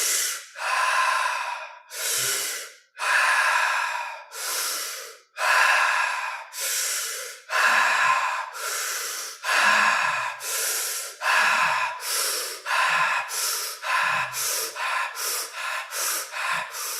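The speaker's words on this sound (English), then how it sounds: "now we're gonna do 10 more breaths only through the mouth. Breathing also with intensity." Intense, deep breaths drawn through the mouth in a steady series of about fifteen loud, close, forceful inhale-exhale cycles, the pace quickening toward the end, with no talking over them.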